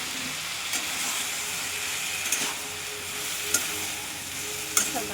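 Fried potatoes stirred into a sizzling pan for a shrimp and ash gourd curry, with a steady broadband frying hiss under scattered sharp scrapes of the spatula.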